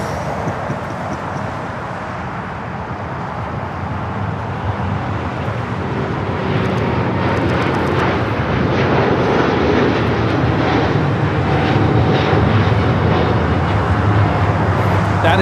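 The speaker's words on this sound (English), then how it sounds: "102 taking off to Seoul on the 787-9 Dreamliner" An Air Premia Boeing 787-9 Dreamliner takes off for Seoul, its jet engines building from a rumbling roar to a louder, fuller thrust that stays strong to the end, with no speech.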